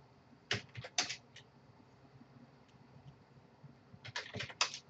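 Bursts of typing on a computer keyboard, two short flurries of quiet clicks near the start and a denser cluster near the end, with a still pause between them.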